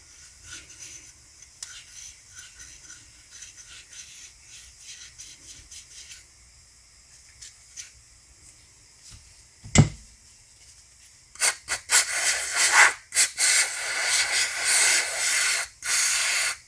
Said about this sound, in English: use a little steel wool to try and clean that up a little bit